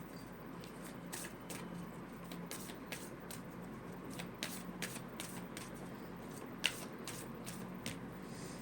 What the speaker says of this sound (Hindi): एक कार्ड इसमें खाना से ले लेती हूँ